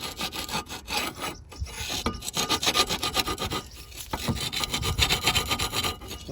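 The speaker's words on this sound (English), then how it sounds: "So I've got a large half round file, and I've been working away inside a bit." A steady rasping scrape of a large half-round file working metal inside a 1986 Porsche 944 strut, repeated strokes in a quick uneven rhythm, close and moderately loud with no talking.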